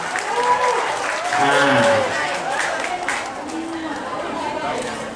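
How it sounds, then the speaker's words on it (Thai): At a birthday party, the audience applauds the parents as they are invited onto the stage. Steady clapping runs under loud calls and cheers from the guests, full and close throughout. "ขอเสียงปรบมือ ให้คุณพ่อแม่น้องบอสครับบนเวทีด้วยนะ"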